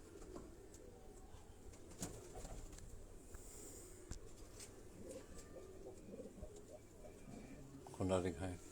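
Pigeons kept by a hobby breeder coo softly in the background, faint and continuous beneath a man's speech, with a few scattered knocks and rustles.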